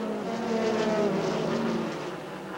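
Stock cars racing in a Busch North Series event at New Hampshire International Speedway, a steady, droning roar of several engines that swells and fades slightly at moderate distance.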